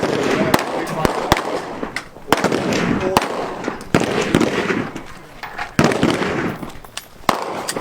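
Handguns fire at a public shooting range, sharp cracks coming one after another at irregular spacing from several shooters, some near and loud, others more distant, with voices murmuring under the shots.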